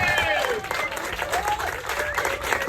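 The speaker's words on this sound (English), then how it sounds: "I'd like for us to give Tina a round of applause" Audience clapping at a business alliance launch event, a short, steady burst of applause from a room of people, with voices murmuring underneath.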